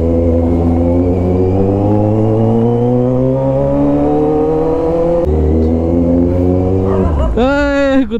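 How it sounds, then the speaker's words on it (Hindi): A loud motorbike engine revs while riding, its pitch climbing steadily through a long pull, dropping at a gear change, then flaring up in sharp high revs near the end, close and dominant. "भाई इतनी लाउड है ना अपनी बाइक,"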